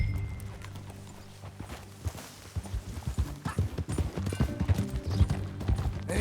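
Horse hooves clip-clop in Red Dead Redemption 2 as a rider sets off, starting quietly and building into a steady, close rhythmic gait over a low game-ambience hum.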